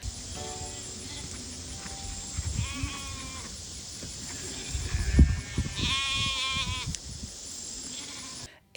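Sheep and lambs bleating on a farm, a few wavering calls rising over an outdoor background with shuffling hooves and faint voices, the strongest bleats grouped toward the end.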